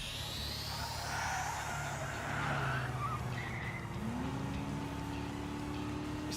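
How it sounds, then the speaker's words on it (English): A turbocharged car engine roars steadily in Trails through Daybreak, with a high whine that climbs, tires squealing as if skidding, and a rising tone near the end, all fairly faint and with no voices. "Is that a turbocharger?"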